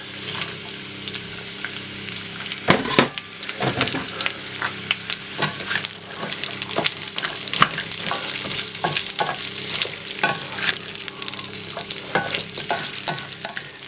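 Onions and carrots sizzling as they are stir-fried in a pan for sweet and sour chicken and pork, a loud steady frying hiss broken by frequent scraping stirs and tossing clatters, close up without talking.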